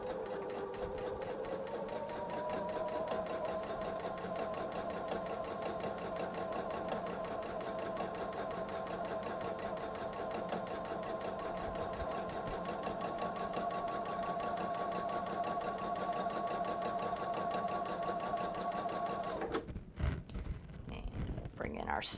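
A sewing machine stitches quilt squares for a Veterans Day quilt, running loud and steady for about twenty seconds before stopping abruptly near the end.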